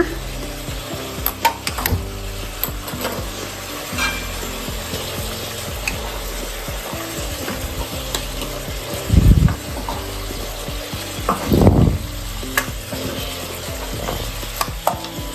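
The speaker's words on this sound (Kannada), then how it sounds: "ಈ ಮಸಾಲ ಆ್ಯಡ್ ಮಾಡ್ಬಿಟ್ಟು ಒಂದ್ಸತಿ ತಿರ್ಸ್ಕೊಡೋಣ" Ground coconut, coriander and poppy seed masala stirred in a frying pan for a country-style egg chicken curry, a steady sizzle with scraping spoon strokes and a couple of louder knocks.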